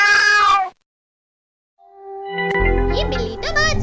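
A cartoon cat meows twice, loud and close: a first processed, chorus-like cry, a second of silence, then a longer warbling meow that rises over a low rumble.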